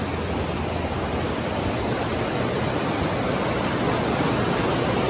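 A river in Arizona rushes in a steady, dense, unbroken wash, close and moderately loud with no voices.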